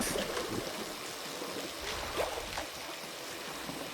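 Water running from a faucet in the video game I Am Fish, a steady hissing, trickling rush that carries on evenly for the whole stretch without a pause.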